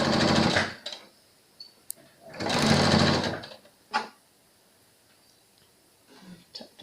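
A sewing machine stitches a pleated fabric face mask in two loud sustained buzzing runs, followed by short clicks, a brief burst and quiet handling between, close up.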